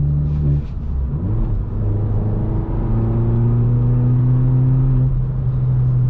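Straight-piped BMW 1 Series exhaust drones loudly from inside the car while driving, its deep rumble rising and falling in pitch as the engine revs through the gears, steady and close throughout.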